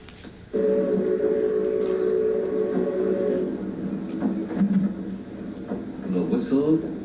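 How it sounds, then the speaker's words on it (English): A Virginia and Truckee Railroad steam train whistle on the last run across the sage-covered Nevada desert, a loud sustained harmonic blast for about three seconds, followed by fainter rail and train noise. "The whistle of a Virginia and Truckee Railroad train, sounding for the last time across the sage-covered Nevada desert"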